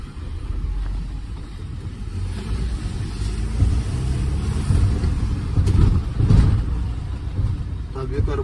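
Steady low engine rumble heard from inside a large school service minibus driving around Izmir, swelling slightly as it works up slopes, with faint voices of passengers underneath.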